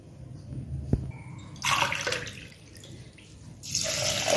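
Water gushes steadily into a pot for kalkandu pongal in two pours separated by a short pause, close and fairly loud, with no talking.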